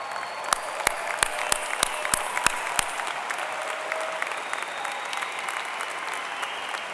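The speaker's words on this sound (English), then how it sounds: "I knew I could engineer a standing ovation" An arena crowd of parents, family and friends at a Boston University matriculation ceremony stands and applauds, the dense clapping steady and sustained throughout, with a few sharp claps close by near the start.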